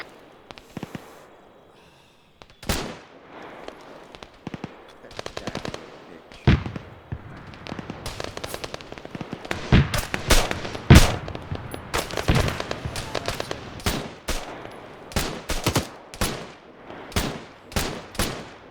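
Military video game gunfire with special rounds: a long run of sharp shots and bursts, sparse at first then dense and rapid, loud and close with booming blasts, no talk.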